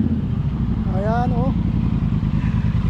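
A group of large cruiser motorcycles riding together with police veteran riders, a continuous deep engine rumble close by, with a brief rising whine mid-way and a voice talking over the noise.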